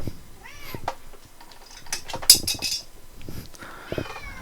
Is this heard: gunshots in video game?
no